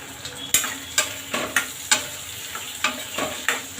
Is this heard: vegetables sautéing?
yes